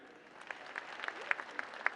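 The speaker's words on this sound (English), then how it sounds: "Clap if you've been." Scattered, sparse clapping from men in a seminar audience, faint and distant, with a handful of separate claps over about two seconds rather than full applause, plus a little room murmur.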